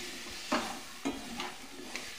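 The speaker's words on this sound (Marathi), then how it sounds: "आता या शेंगाला व्यवस्थित मिक्स करून घ्यायचं।" A spoon stirs drumstick pods coated in masala in a frying pan. A few scraping strokes sound over a soft sizzle, close and moderately loud, with a sharp clack at the end.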